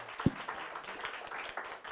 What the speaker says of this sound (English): Please, everybody, give him a round of applause.